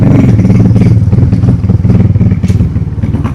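A motorbike running low on petrol chugs and rumbles loudly up close, its engine note pulsing unevenly with some clattering and no talking over it.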